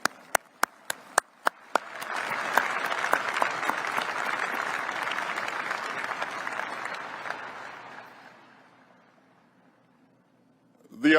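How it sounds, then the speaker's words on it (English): A few sharp claps start it off, then a crowd at the B-21 bomber unveiling ceremony bursts into sustained applause that fades out after several seconds. No one speaks. "let's give them a round of applause"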